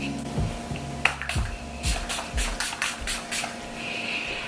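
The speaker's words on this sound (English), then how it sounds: "use my Pixie Makeup Fixing Mist and just spray my face" Several short hissing bursts of makeup setting spray misted onto a face in quick succession, close by, with quiet moments between them.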